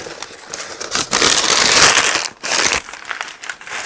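Packing paper crumples and crinkles loudly and up close as it is pulled from a shipped box during unboxing, in dense bursts with a brief pause, and no talking.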